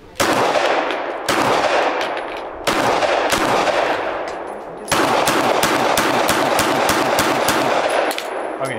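A Glock pistol fires loud, sharp shots close by: a few spaced single reports at first, then a quick run of rapid shots fired one after another, with no talking.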